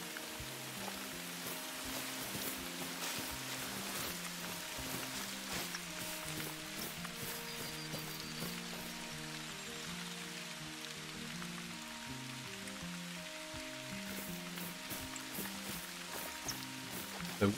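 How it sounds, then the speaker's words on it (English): Steady rain patters on surfaces in the hunting game The Hunter: Call of the Wild, a continuous wash of drops running the whole stretch with faint game ambience and no talk over it. "Rain is pretty cool."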